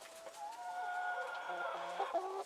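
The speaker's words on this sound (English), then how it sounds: "mouthy little chickens" Small garden chickens cluck and murmur close by in a quiet backyard, a few short, chattering calls in a row.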